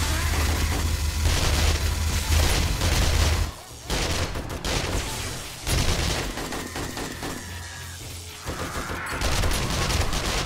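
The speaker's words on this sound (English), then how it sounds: "It's a little laser gun." Rapid bursts of gunfire from a small laser gun in a co-op zombie horde-night game, dense and loud for several seconds, with brief drops in between and another burst of fire near the end.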